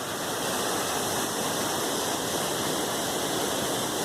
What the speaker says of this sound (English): So the falls are a little swollen this morning, which makes it pretty spectacular to see